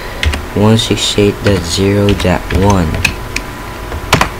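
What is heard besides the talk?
typing router gateway address on a computer keyboard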